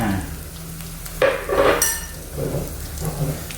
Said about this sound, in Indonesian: Nah, ini cara saya menggoreng telur